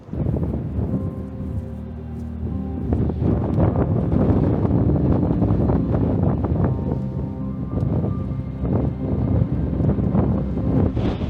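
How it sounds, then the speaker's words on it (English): Strong wind on a Lake District hill near Sergeant Man batters the microphone with loud, constant roaring gusts that barely ease for the whole stretch, heard alone with no talking. "that wind is absolutely atrocious"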